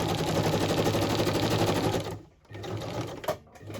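A sewing machine stitches through a paper journal page in a fast, steady mechanical chatter for about two seconds, then stops, leaving a few faint clicks and handling sounds.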